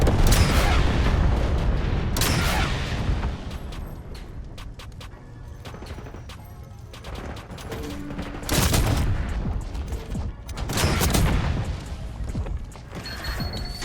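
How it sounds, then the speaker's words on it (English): Napalm strike explosions in the video game Black Ops 6 on a Hardpoint match, with repeated heavy booming blasts and crackling gunfire bursts, loud and near, swelling around the middle and end amid constant battle noise. "West Point requesting napalm strike."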